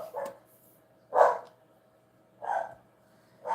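Dogs bark from a room or two away, four short separate bursts spaced about a second apart, moderately loud over a quiet background with no talking.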